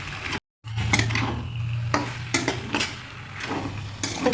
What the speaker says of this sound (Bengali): পাস্তাগুলোর সঙ্গে সস আর পাস্তা মশলা খুব ভালো করে মিক্স করে নেব